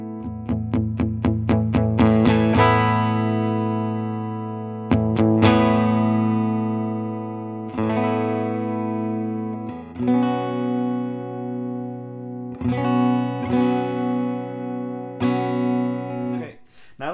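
An electric guitar plays through an Ibanez TSA5TVR Tube Screamer amp with the bass control being adjusted. Quick strummed chords open the passage, then sustained ringing chords are struck again every few seconds, clean and close.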